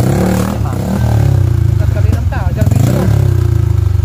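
A trail motorcycle exhaust revs loudly and repeatedly, rough throbbing engine bursts rising and falling close by, with people talking over it.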